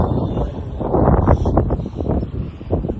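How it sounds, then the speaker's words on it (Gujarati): Gusty wind buffets the microphone with a loud, low rumble that rises and falls throughout, on a resort lawn in Dwarka. "મસ્ત પવન આવે છે."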